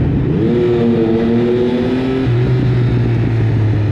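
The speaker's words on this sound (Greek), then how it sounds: "Πω, βρυχάτε το μοτέρ" A Triumph Tiger 1050 motorcycle engine revs up close and loud, its pitch climbing and holding, then stepping down to a lower steady drone, with no talk over it.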